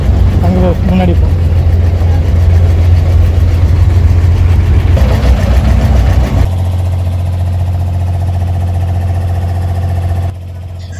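A small wooden abra boat's engine idles and chugs steadily and loudly while crossing Dubai Creek, a constant low drone that shifts pitch partway through and drops slightly near the end, with people talking over it.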